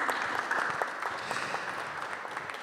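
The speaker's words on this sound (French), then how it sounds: "On peut vous applaudir, David." Applause from an audience at a parish talent event in Mérignac, a dense ripple of many hands clapping at a moderate distance, steady and slowly fading over a few seconds.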